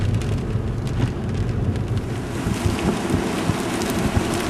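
A wild wind and rain storm on the Pacific coast near Florence, Oregon, produces a continuous, loud buffeting roar of gusts against the microphone, with rushing rumble and no voices.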